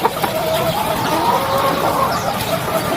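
Chickens being fed cluck continuously in a dense flock, close and busy, under a steady bed of farmyard noise.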